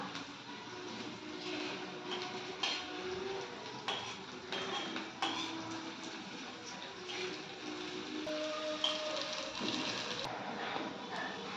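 Chopped onions frying over lowered heat in a home kitchen pan, a steady broadband sizzle running throughout with occasional clinks and scrapes of utensils against the pan.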